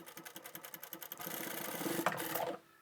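Sewing machine running in short pulsing bursts and then a steadier stitch, working over the end of elastic and fabric while sewing a bandana head scarf, close and moderately loud before stopping abruptly.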